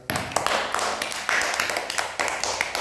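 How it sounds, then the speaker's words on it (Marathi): Schoolchildren in a classroom clap their hands in a lively, uneven burst lasting a few seconds, with sharp overlapping claps close by. "बरोबर आहे टाळ्या वाजा मग एकदा"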